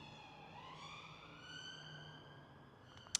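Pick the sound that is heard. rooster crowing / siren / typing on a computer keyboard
siren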